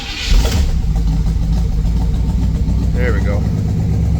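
Buick 455 V8 engine idling and running steadily, a deep continuous rumble throughout, with someone speaking briefly over it.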